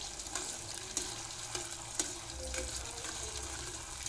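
Aloe vera gel stirred in oil in a slow pan for homemade hair oil, a steady close sizzle with a few sharp scrapes of the spoon against the pan, no voices.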